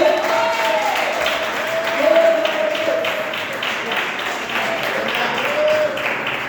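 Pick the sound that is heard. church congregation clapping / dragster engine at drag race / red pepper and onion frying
church congregation clapping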